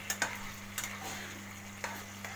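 Chili chicken gravy being stirred in a pan after water is added: a few soft, sparse scrapes and clicks of the spoon over a low, steady hum, quiet overall.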